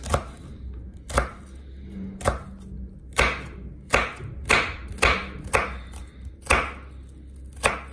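A knife dices an onion on a cutting board, striking in about a dozen crisp, evenly spaced chops that speed up toward the end, close and clear, with no talk.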